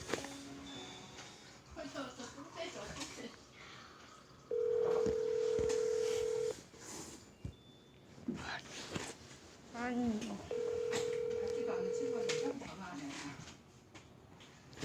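Telephone keypad tones sound during a call, two long steady beeps separated by short dialing tones, while people talk quietly around them.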